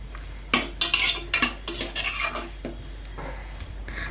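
A metal spoon stirs and scrapes spices sautéing in a pot for mutton soup, with a series of close, sharp clinks and scrapes in an irregular rhythm over a faint low hum, and no voices.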